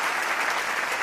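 A brief burst of audience applause at an anniversary celebration gathering, dense even clapping, moderately quiet and heard alone.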